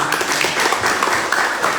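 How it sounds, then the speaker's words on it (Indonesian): An audience claps together in a dense, steady patter of many hands that fills the whole short stretch at an even, moderate loudness. "Tepuk tangan Bang Anda"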